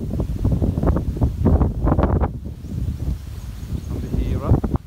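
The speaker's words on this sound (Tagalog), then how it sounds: "Lumakas na naman yung hangin." Strong wind buffets the microphone while fishing outdoors, a steady, roaring rumble that continues throughout.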